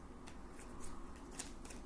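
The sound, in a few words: large illustrated cards being shuffled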